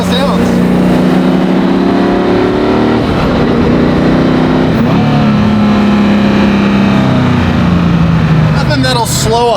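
A hypercar engine runs loud and close throughout, its pitch sliding up and down through several revs and gear changes with no break in the roar.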